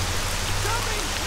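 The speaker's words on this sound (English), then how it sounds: "Now this will shelter me from the rain a bit." Steady rain falling in the video game S.T.A.L.K.E.R.: Shadow of Chernobyl, a constant close hiss with a low rumbling hum underneath, no break for the whole stretch.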